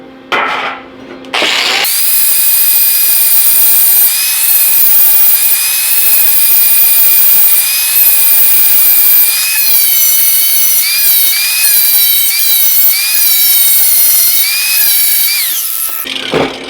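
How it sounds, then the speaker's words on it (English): Loud, continuous grinding from a power tool, a harsh high-pitched whine that holds steady for over ten seconds before cutting off. "First off, some noisy grinding."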